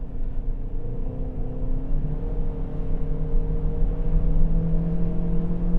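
Ford C-Max plug-in hybrid accelerating on a wet, snowy road with wheels slipping, a steady low engine drone and tyre rumble with rising whine heard from inside the car.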